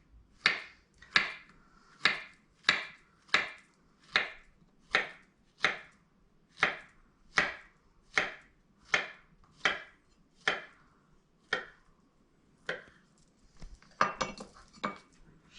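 A knife slices a very ripe banana into small rounds, about seventeen crisp, evenly spaced taps on a board in a steady rhythm, with a faster cluster of clicks at the close. Close and clear, with no voices.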